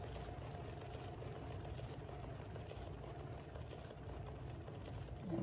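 A motorized paint spinner turns a multicolored abstract swipe painting, giving a steady, continuous low whirring hum that stays even throughout and swells slightly at the very end.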